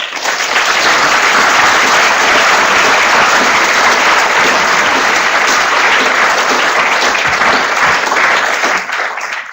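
Loud, sustained applause from an audience at a lecture on avalanche mobility, a thick even roar of clapping that runs for about nine seconds before easing off.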